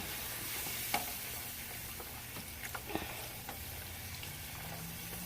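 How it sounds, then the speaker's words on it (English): A spoon stirs thickening gravy in a hot pan for smothered burgers, with soft scraping strokes over a steady low sizzle at close range and no talking. "You got to continue to stir."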